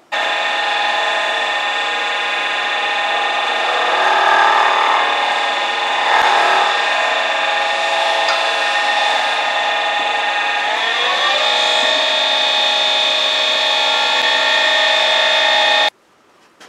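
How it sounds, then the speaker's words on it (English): A wood lathe spinning a pen blank runs with a steady whine throughout. Around eleven seconds the tone shifts, and near sixteen seconds the motor cuts off abruptly. No one speaks over it. "so this is done on the lathe"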